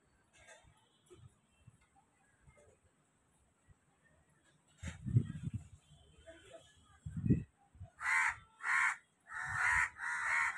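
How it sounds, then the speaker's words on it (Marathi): Crows hopping about in mango trees give a quiet start, then a voice talks briefly before several loud, close caws ring out in a steady series at the end. "दिसतो का कावळा इकडून तिकडे उड्या मारतोय"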